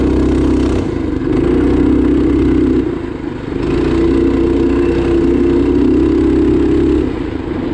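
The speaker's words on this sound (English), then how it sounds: "Dude, the idle on this thing is way too high." A Tillotson 212 engine swapped into a Trailmaster Hurricane 200 Pro off-road kart runs with its idle set too high. It drones steadily and loudly up close, with a brief dip in the middle before it picks back up.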